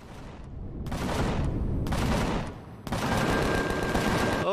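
Dense video game gunfire and rocket blasts in Empyrion space combat, sustained loud bursts with brief gaps, a continuous barrage over roughly four seconds.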